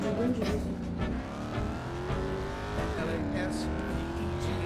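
A car in the Gangstar Vegas video game drives fast, its engine droning steadily with rising pitch sweeps and some tire noise throughout, close and continuous, with a voice talking over it.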